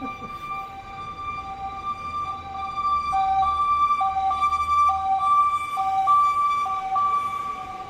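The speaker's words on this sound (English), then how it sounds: "It's strange because it's the same ambulance that goes." An ambulance siren sounds in the old city, a clear two-tone wail alternating steadily at moderate distance and growing a little louder over the street background.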